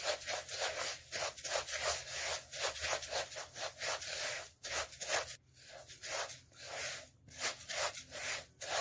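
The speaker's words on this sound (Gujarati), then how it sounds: "અને આપણે આને બરાબર મિક્સ કરી લઈશું।" Dry-roasted dill and carom seed mukhwas is stirred with black salt, making a steady rhythmic rubbing and scraping of seeds against the container that continues throughout, close and fairly even.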